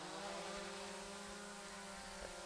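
A drone's propellers spin up for an automated takeoff, making a steady tonal whine with layered harmonics over a low motor rumble, constant and fairly close, with no talk.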